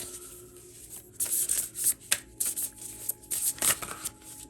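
Tarot cards being shuffled by hand nearby, in repeated soft riffling bursts with brief gaps, crisp papery flicks and slaps, no speech.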